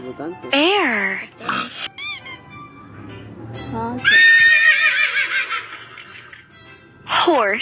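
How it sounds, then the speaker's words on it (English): A horse neighs in a long, high, shaking whinny, loud and close, surrounded by squeaky cartoon sounds and voices. "Horse."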